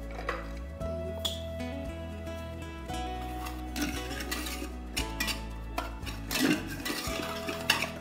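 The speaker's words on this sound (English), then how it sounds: "if you can give me the whisk, I'm just going to mix this up." A wire whisk stirs saffron and milk into a paste in a bowl for a sweet Punjabi lassi, giving light, quick metallic scraping and clinking against the dish under steady kitchen background hum.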